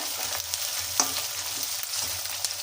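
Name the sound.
frying onion, lentils, chili and curry leaves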